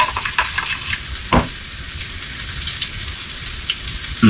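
Red Hot sauce being stirred into a hot pan, with a steady broadband sizzle of frying running throughout and a couple of brief louder scraping stir strokes near and alone.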